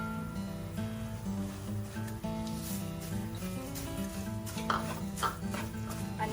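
Sugar, Sichuan peppercorns, black pepper and other spices get stirred into hot oil for crispy chilli oil, a soft sizzle running under a persistent musical tone, with light spoon scrapes near the end.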